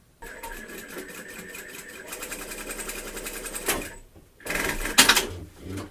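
A sewing machine stitches across the ends of a shirt cuff, a steady mechanical whirring that runs in bursts with brief pauses, close and fairly loud, ending in a sharper rattling spurt.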